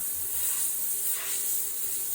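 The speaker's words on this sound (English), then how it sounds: "I like to spray my airbrush first, make sure the paint consistency is where I like it." An airbrush spraying paint gives a steady, soft, high-pitched hiss that runs unbroken and fairly quiet, with no voices.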